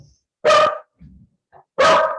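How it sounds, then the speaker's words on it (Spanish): Household dogs barking after the doorbell rings during an online class: two loud, sharp barks about a second apart, with faint low grumbles and a small yip between them, no voices. "Justo tocaron el timbre. Vieron que los perros se enojan."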